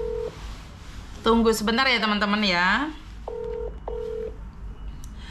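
A phone call is dialed: a short dial tone, then a fast run of rising and falling keypad tones, followed by two steady beeps of the line, loud and close, with a voice speaking briefly at the start.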